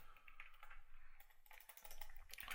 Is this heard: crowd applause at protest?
no